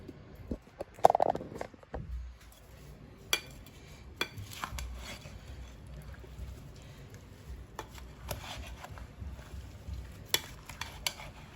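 Mango pickle being mixed with oil in a container, a quiet close stirring with scattered spoon clicks and knocks, a louder clatter early on; no speech.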